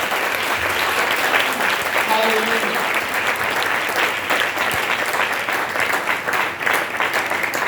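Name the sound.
congregation applauding in church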